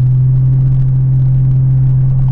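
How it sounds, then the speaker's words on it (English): A truck's exhaust gives a steady, loud, deep rumble, droning through the small window of a camper shell as if heard from inside. There is no talking. "I never really think about how loud my exhaust is until it's just funneling through"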